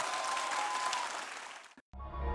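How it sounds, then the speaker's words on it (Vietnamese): Audience applause at a Vietnamese beauty pageant reality show, a dense wash of clapping that fades out abruptly after about two seconds before music starts. "Mọi người dành một tràng vỗ tay"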